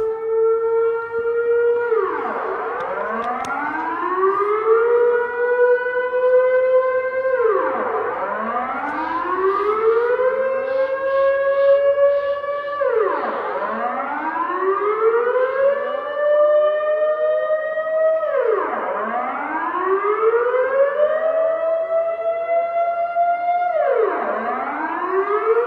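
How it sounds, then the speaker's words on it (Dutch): A civil defense air raid siren wails outdoors in long rising and falling cycles, each sweep climbing to a steady high tone before dropping away, repeating about every five seconds and sounding loud and continuous with no talk over it. "Het luchtalarm gaat af"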